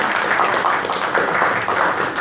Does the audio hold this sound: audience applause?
yes